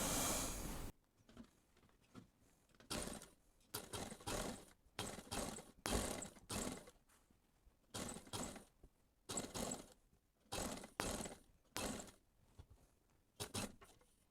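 A sewing machine stitches lace onto a high neckline in a series of short, distinct bursts of mechanical clatter. The bursts are separated by pauses and sound close and moderately quiet.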